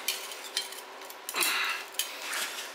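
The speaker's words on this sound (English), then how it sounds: "I don't know if I can pry it open with a putty knife or not, but we'll try." A putty knife scrapes and clinks against the rear axle cover of a 1968 GTO's GM 8.2 ten-bolt rear axle, with close metallic taps and scraping bursts at an irregular pace.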